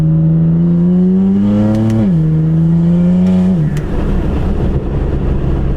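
A BMW F80 M3 with titanium front-mount intakes revs in Sport Plus with exhaust valves open, a loud, close, droning engine note that climbs, dips briefly, rises again and then breaks into a rougher, crackling tone.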